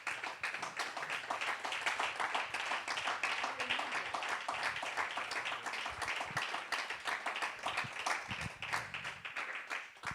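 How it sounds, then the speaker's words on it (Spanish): Congregation clapping during a Sunday church service, a dense, steady wash of many hands that carries on without letup from start to finish. "Dale un aplauso al Señor"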